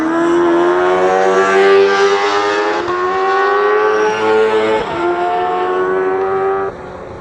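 Loud, close race cars screaming past on the Croix-en-Ternois circuit during a Promosport race, high engine whines overlapping and shifting pitch as they pass and change gear, with no gap in the noise.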